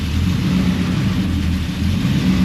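A Pontiac WS6 Trans Am's V8 idles with a steady low rumble while the car is shifted into reverse, the engine note holding even and close throughout.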